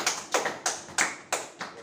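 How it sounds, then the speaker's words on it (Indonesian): Students in a high school Islamic studies classroom give a short round of clapping, about six distinct, evenly spaced claps, fairly close and moderately loud with no talk over them. "Berikan tepuk tangan"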